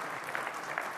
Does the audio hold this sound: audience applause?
yes